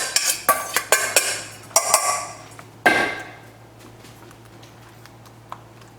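A spoon clinks and scrapes against a bowl or pot while pizza is being made, a quick run of sharp metallic knocks followed by a few louder taps, then fading to quiet room tone.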